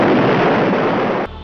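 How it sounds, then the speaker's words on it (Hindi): A loud, sustained explosion in a horror audio drama, a dense roaring blast lasting over a second before cutting off abruptly into a quieter low rumble. "अचानक एक तेज धमाके हुए"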